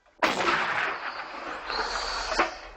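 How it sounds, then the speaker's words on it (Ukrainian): An artillery gun fires a single loud blast that cracks out, followed by a long rumbling roar that fades slowly, with a second thump near the end; no voices. "Ну і чують, як прилітає. Постріл!"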